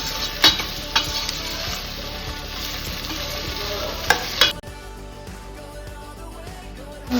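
Ground masala paste of garlic and coriander fries in oil in a pan for a pork curry, a dense close sizzle with sharp scrapes and taps of a spoon against the pan, before the frying drops to a quieter hiss.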